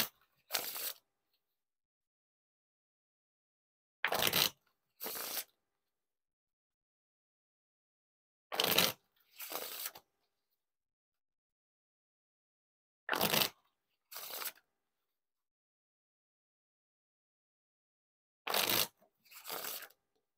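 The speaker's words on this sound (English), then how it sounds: "the riffle shuffles and bridge shuffles are not bad" Red Knights playing cards by Ellusionist are riffled and bridged in five separate rounds, each a quick crisp flutter followed by a softer cascade, with silence between rounds.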